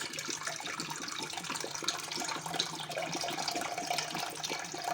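Cold water poured into a cup until it is less than half full while making cake in a cup, a faint continuous trickle and splash running steadily throughout, alone without talk.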